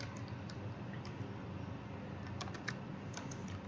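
Someone types on a computer keyboard while writing C code in an editor, producing sparse, soft key clicks over a steady background hiss.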